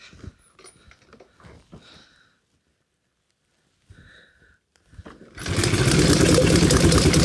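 A 111-year-old vintage racing engine sputters after a few quiet attempts, then catches and roars loudly and continuously, raw and close.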